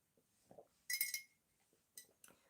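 Glass clinks several times as someone picks up a drink, with one bright ringing chime followed by a couple of lighter taps and soft handling sounds, close and otherwise quiet.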